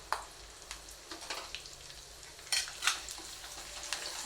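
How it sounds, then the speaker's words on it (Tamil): Cashews frying slowly in a pan for milagu pongal, a soft steady sizzle with scattered crackles and stirring scrapes, fairly quiet and close, with a few brighter bursts late on. "நல்லா ஸ்லோ பண்ணிக்கோங்க, ஏன்னா முந்திரி வந்து நல்லா வதங்கணும், நல்லா ப்ரௌனிஷாக வரணும்."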